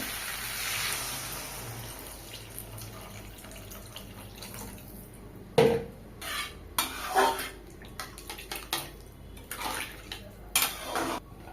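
Water poured into a cooking pan of potato and mourola fish chachchari, a rushing splash followed by several clattering knocks and stirring scrapes against the pan, close and fairly loud with no talking.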